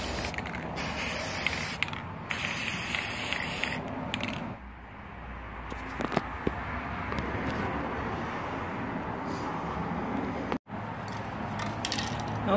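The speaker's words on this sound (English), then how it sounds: "I turned all the flowers over and I'm going on this side with the spray" Aerosol spray paint hissing onto artificial hydrangea flowers in steady bursts, with rattling mechanical handling sounds between sprays, close and fairly loud.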